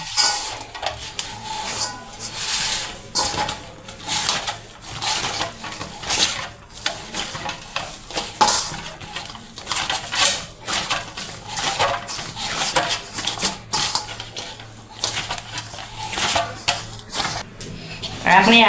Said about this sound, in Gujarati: આપણે પછી તેને આ રીતે ગૂંદી લેવાનું।